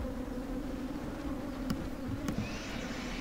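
A dense swarm of bees buzzes steadily and continuously as they are blown out of a honey super during a harvest in Kenya, a close, moderately loud drone with a couple of brief clicks and no talking.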